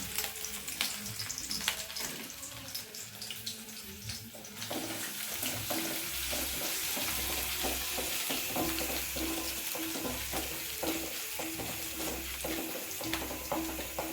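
Ginger, garlic, fennel seeds and cinnamon fry in a pan with hot oil, giving a loud, dense, continuous sizzle that swells after the first few seconds, with stirring scrapes and crackles throughout and no speech.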